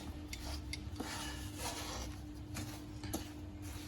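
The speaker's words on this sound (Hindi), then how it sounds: "तो इसको हम मिक्स कर देंगे अच्छे से" Scraping and rubbing as sugar boora is mixed into a cooled burfi mixture in a pan, a quiet, close, irregular rasping with light clinks of a spoon against the vessel.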